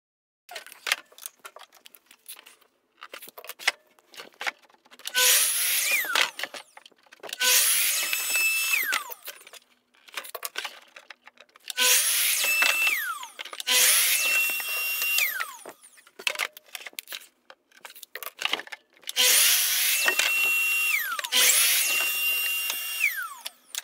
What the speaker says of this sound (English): Next step, I will be cutting the plywood to size.